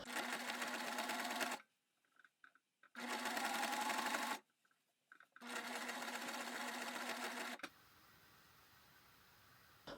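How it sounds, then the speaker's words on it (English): A serger lock-stitching raw fabric edges runs in three fast, steady bursts with short pauses between them, close and even, before falling quiet to a faint hum. "You can lock stitch these raw edges together with a serger if you have it."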